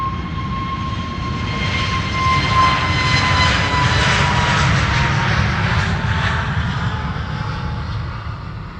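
An airliner takes off from Amsterdam Schiphol bound for London Heathrow. The loud jet engine roar swells to a peak midway, then eases slightly as the aircraft moves away.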